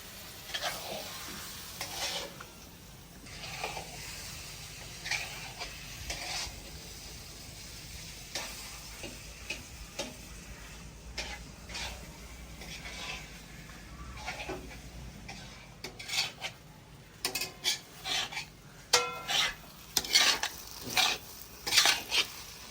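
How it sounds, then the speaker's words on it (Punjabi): Semolina stirred and frying in a pan for halwa in a village kitchen: a soft, steady sizzle under repeated scraping strokes of a spoon against the pan, the scrapes growing quicker and sharper toward the end. "ਅਸੀਂ ਸੂਜੀ ਨੂੰ ਨਾ ਚੰਗੀ ਤਰ੍ਹਾਂ ਮਿਕਸ ਕਰਾਂਗੇ ਤਾਂ ਕਿ ਨਾ ਇਹ ਚਾਸਤੇ ਵਿੱਚ ਨਾ ਚੰਗੀ ਤਰ੍ਹਾਂ ਮਿਕਸ ਹੋ ਜਾਵੇ ਤੇ ਫਿਰ ਇਹਨੂੰ ਚੰਗੀ ਤਰ੍ਹਾਂ ਪਕਾਵਾਂਗੇ"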